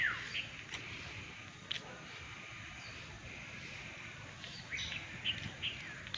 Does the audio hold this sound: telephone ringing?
no